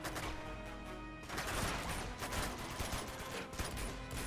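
Gunfire in the video game Uncharted 2 on PS5: a dense, sustained burst of rapid shots and impacts, loud and chaotic throughout with no speech.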